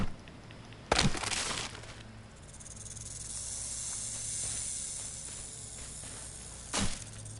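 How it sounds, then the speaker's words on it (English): A snake hisses steadily in the survival video game Stranded Deep, a long breathy hiss running under two sharp, loud cracking bursts near the start and end. "I'm gonna fight that snake, just tired of hearing him."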